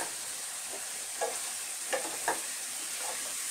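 Boiled potatoes and garlic are sautéed with cooked-down spices in a pan, giving a soft continuous sizzle broken by three or four light, brief spatula scrapes.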